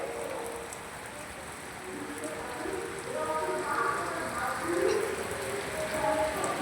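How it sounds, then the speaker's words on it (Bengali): Rain patters steadily on leaves, a soft continuous shower that swells slightly louder midway, with faint bird calls in the background. "দেখেছো কত বৃষ্টি পড়ছে পাতা ঝরায় পাতার মধ্যে বৃষ্টি"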